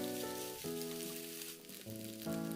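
Rice frying in a pan for nasi goreng at home, a steady close sizzle running through the whole stretch beneath a layer of sustained background music.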